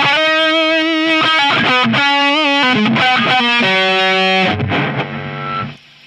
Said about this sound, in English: you put distortion in front of it